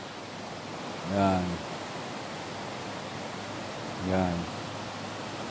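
A river flows below a high mountainside on Mt Banahaw, heard as a steady broadband water rush from a distance, with a man's short spoken words breaking in twice.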